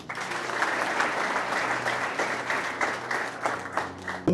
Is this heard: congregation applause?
yes